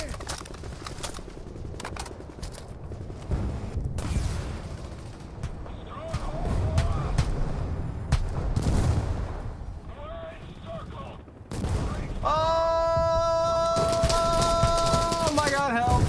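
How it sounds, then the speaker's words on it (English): Gunfire in a War Thunder battle with tanks and infantry: scattered sharp shots and heavier booms over rumbling background noise, with a voice talking at times and a tonal game alert sounding near the end. "They're shooting at me."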